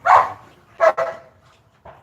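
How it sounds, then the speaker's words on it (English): A dog barks three times nearby, two sharp barks close together followed by a softer one, with no voices. "Excuse that retarded dog over there"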